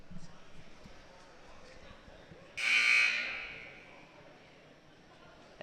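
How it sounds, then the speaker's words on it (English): A loud buzzer sounds at a high school boys' basketball game between Hempfield and Lebanon, marking the end of a timeout; one sustained blast of about a second and a half over gym crowd murmur, then fading. "the buzzer indicates that the timeout is over"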